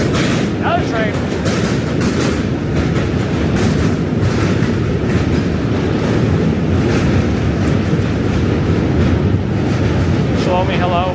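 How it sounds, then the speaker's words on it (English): A train passes in New York City during a walk on Manhattan's East Side, a loud continuous rumble and rattle blended with heavy wind buffeting on the microphone, sustained for the whole stretch with faint squeals. "Another train."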